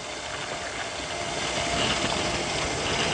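An electric motor pump drains water at a construction site for a new Korean beef cattle barn, giving a continuous loud, hissing whir that holds steady throughout.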